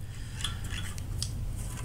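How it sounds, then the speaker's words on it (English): Scissors are shifted aside on a work surface while a two-color cobra paracord bracelet is made, giving a few quiet metallic clinks and light scrapes over a faint low hum. "Move the scissors out of the way."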